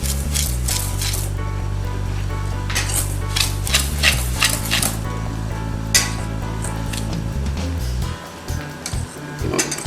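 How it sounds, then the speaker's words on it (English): A utensil scrapes and clinks against a bowl while dry chocolate cake ingredients with dark cocoa are stirred, making steady close-up rhythmic clinking under a constant low background hum. "Mixing this, it already feels fluffy. No clumps."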